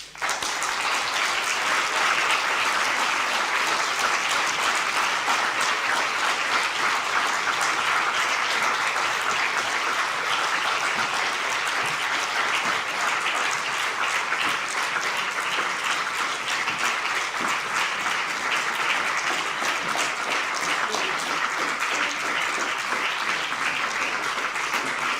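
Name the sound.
audience applause after a lecture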